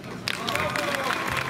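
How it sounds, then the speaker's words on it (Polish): Audience at a 1940s fashion contest in Hel bursts into applause, a brief dense crowd clapping that starts abruptly and carries on with some voices mixed in. "Wielkie brawa, szanowni państwo."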